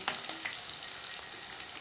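Fried cashews tossed into a pan of sabudana khichdi, bringing a steady close sizzle of frying with faint stirring clicks, loud and continuous throughout with no voices.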